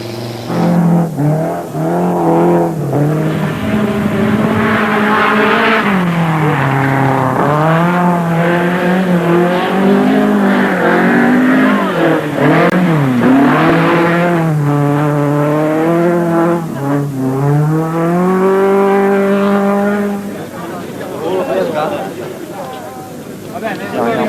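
Rally cars racing at the 1982 San Remo rally in Italy, engines revving and rising and falling in pitch as they accelerate and pass, loud throughout with a narrator speaking over them.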